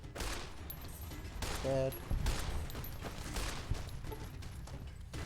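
Dense game gunfire from Fallout New Vegas, a hardcore-mode firefight with bursts of shots and rattling fire running throughout, while someone talks intermittently over it.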